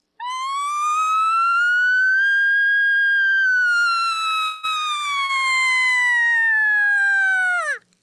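A single long elk bugle imitation on a call practiced as a siren drill, a clear whistling tone rising slowly then falling, loud and close, with a brief break near the end before a sharp cutoff.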